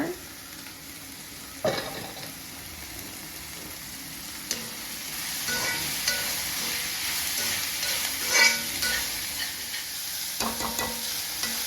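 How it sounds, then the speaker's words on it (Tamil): Carrots, beans, green chillies and capsicum sautéed in a pan for vegetable cutlets, a soft steady frying hiss with occasional spatula scrapes and clanks close by. "மெயினாக இந்த கேரட்டும் பீன்ஸும் கொஞ்சம் நல்லா வதக்கிக்கணும்"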